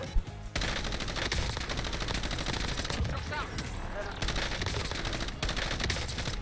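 Sustained automatic gunfire in the video game Warzone, dense rapid bursts crackling almost without pause, loud and close, with a brief gap near the start and several short breaks later.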